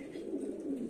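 A Giribaz racing pigeon coos softly in a low, rolling murmur, brief and faint at close range, with no talk over it.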